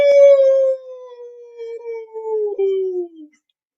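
A human voice imitates a wolf howling at the moon, giving one long, loud, close howl that slowly slides downward in pitch and breaks slightly near the end before fading out.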